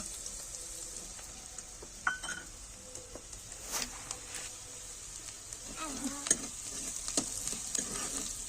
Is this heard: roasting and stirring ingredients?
yes